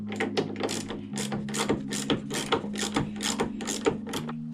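A hand ratchet loosens the tailgate hinge bolts on a Mk3/3.5 cabriolet, giving a fast, steady run of close, loud pawl clicks with a low steady hum underneath.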